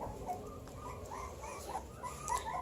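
Several puppies whimpering and whining softly, thin high cries overlapping at close range over a low background hum, fairly quiet, no talking.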